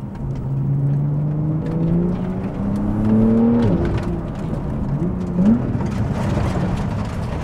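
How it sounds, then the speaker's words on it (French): A Porsche 911 GTS accelerates, the engine note rising in pitch through the gears with a shift around the middle and a brief pop, close and loud over road noise. "ce qui nous intéresse, c'est quand même une petite accélération quand même"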